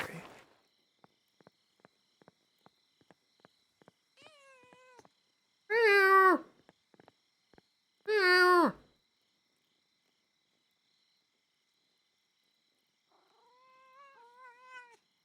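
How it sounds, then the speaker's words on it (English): A cat meows in the video game Pentiment, two loud, drawn-out calls in the middle followed by a softer, fainter meow near the end, with light ticking footstep-like clicks earlier and no talk. "I love how weird that cat looks."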